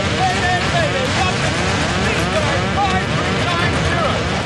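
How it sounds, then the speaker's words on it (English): Storm-force wind roars through an airliner cockpit after a blowout, a loud, continuous rushing of air that never lets up, with faint, indistinct voice-like tones buried inside it. "the storm rushing through the cockpit drowns out their replies"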